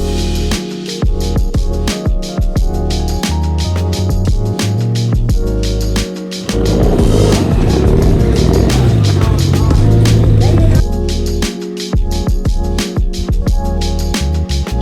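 A Toyota car with a 4AG engine idles at a Cars and Coffee meet, then revs hard for several seconds and drops back, loud and nearby amid scattered clicks and background chatter.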